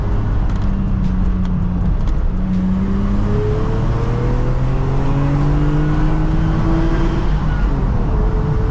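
A 1989 Vauxhall Carlton GSI 3000 24V engine revs steadily, rising pitch sweeping upward over several seconds toward just under 7,000 RPM, loud and close with a constant engine drone throughout and no talking.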